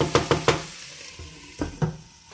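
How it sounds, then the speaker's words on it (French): Bell pepper sautéing in a pan for chicken-stuffed buns, a quiet sizzle broken by a quick run of three sharp utensil scrapes and stirs, then two more. "Je vais introduire le poivron. Et on va laisser encore une fois bien revenir."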